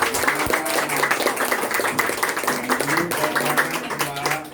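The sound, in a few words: audience applause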